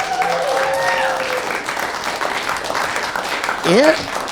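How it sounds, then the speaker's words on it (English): A comedy club audience at a stand-up set claps and cheers steadily for a few seconds, with a voice speaking over the applause and a brief vocal flourish near the end. "Please give her a big round of applause."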